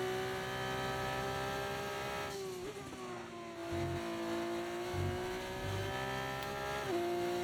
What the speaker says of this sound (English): That sounds like F2 cars, to be fair.